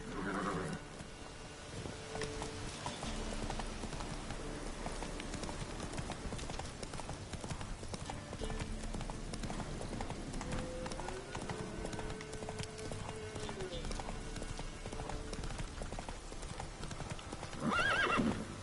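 Geralt's horse Roach gallops in The Witcher 3: Wild Hunt, with steady rhythmic hoofbeats that run throughout and an occasional whinny, all set against ambient game sound.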